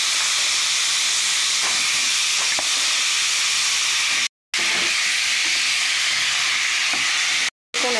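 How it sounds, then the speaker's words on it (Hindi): Mango pieces and curry leaves fry in a pan for Goan mango sasav, giving a loud, continuous hiss and sizzle close up. Two short breaks cut the sound, and faint stirring clicks come through. "ते आंबे घालता तितून फोण्णां बरें फ्राय कोता"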